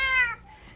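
A male neutered domestic shorthair cat, about three years old, gives a single close, loud meow with a clear rising-falling pitch, then a fainter trailing tail.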